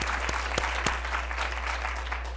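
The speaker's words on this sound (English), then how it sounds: "I think it deserves a round of applause from this whole" Audience applause for Governor John Hickenlooper at a talk, a steady wash of many hands clapping throughout with a few louder sharp claps standing out early on, moderately faint and without voices.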